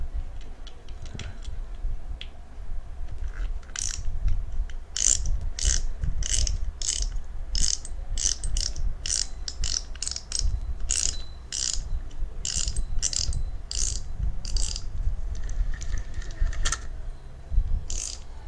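A budget spinning fishing reel cranked by hand, giving a steady close-up ratcheting, clicking whir with rhythmic bursts of gear noise that continue for the whole stretch, with no talking.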